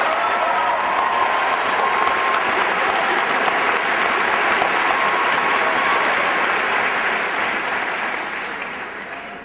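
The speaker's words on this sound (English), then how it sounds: "let's give them a round of applause as well." A graduation audience at Hartford High School applauds in a long, dense wave of clapping that fills the hall and fades slightly toward the end.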